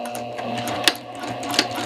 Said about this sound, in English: and stitch all along that edge.